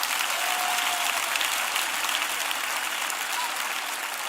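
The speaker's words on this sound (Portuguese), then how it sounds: "Bata palmas para Jesus" A church congregation at a gathering in Accra, Ghana claps continuously, a dense even wash of applause sustained for several seconds at moderate level.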